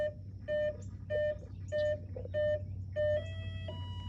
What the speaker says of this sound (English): That's 10 beeps, 10S.